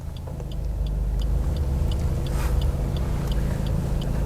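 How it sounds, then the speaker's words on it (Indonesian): A car pulls away on an uphill slope during a driving lesson, its engine a steady low rumble that swells after the first second and holds on, with faint clicks above. "Nah, mobil jalan."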